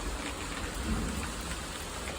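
Steady, dense rainfall hissing continuously, with a low rumble underneath; no voices.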